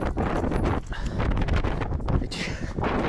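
Strong wind buffets the microphone with a loud, continuous roar and gusting rumble outdoors in California.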